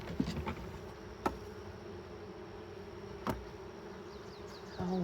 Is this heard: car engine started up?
no